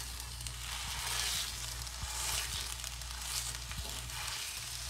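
Sausage sizzling in a cast iron pan on medium heat, a dense continuous crackle and hiss with faint occasional taps as it is broken up, close and without talk.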